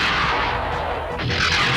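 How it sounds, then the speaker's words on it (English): Missiles explode on a ship's deck in the video game Saturday Morning Simulator, giving a loud, continuous roar of booming blasts and rumbling debris with no pause. "Missiles hit the deck! That was too close."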